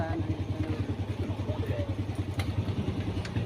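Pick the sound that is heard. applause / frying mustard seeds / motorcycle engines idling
motorcycle engines idling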